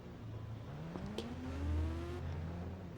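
A motorbike is ridden in an Indian bike 3D video game, its engine rising in pitch as it accelerates, a fairly faint revving whine that climbs steadily with no talk over it.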